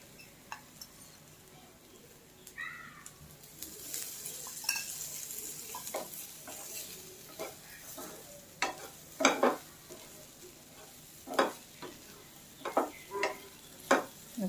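Bitter gourd roasting in a little oil in a pan over a low flame, with faint sizzling and a series of sharp scraping stirs and utensil clinks that grow more frequent toward the end, no talking.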